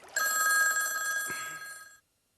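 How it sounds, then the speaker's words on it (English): A telephone bell rings on a houseboat, one sustained bright ring lasting nearly two seconds with a faint soft knock partway through, then stops abruptly into silence. "I was having lunch on my houseboat when the telephone rang"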